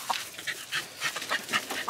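A farm chicken clucks in short, irregular bursts nearby, several quick clucks spread across a couple of seconds with quiet gaps between.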